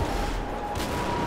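Soldiers firing guns in GTA 5, a dense burst of overlapping gunshots and booms, loud and close for about a second.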